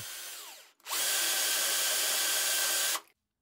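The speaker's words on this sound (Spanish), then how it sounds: "Entonces en la pieza a tornear taladro un agujero." A drill press whirs at a high, steady pitch for about two seconds, drilling a hole in a workpiece, starting and stopping abruptly, after a brief quieter motor hum.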